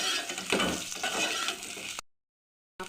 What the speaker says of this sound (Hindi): अब इसमें मैं प्याज शामिल कर दूँगी।